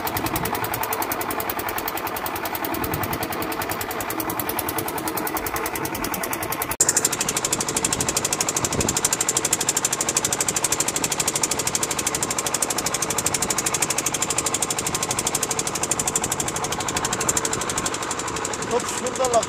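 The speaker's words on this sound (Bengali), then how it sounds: "আমাদের নৌকা স্টার্ট হলো" A motorboat engine runs on a Bangladeshi river during a fishing trip, its steady loud mechanical drone continuing throughout, with a sharp shift in tone partway through as it starts up fully.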